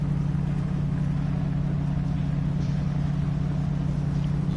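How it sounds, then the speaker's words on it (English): GT race car engines idle on the grid at Imola in a racing simulator game, blending into one steady, loud, low drone that holds level throughout without a break. "drivers now starting their engines. As you can hear, the roar and frequencies of all the engines begin."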